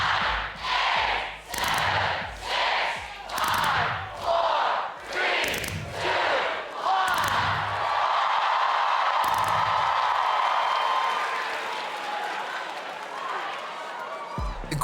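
A large game-show crowd counts down in unison from fifteen, loud rhythmic chanted numbers in a steady beat that swell into cheering and excited shouts at the end.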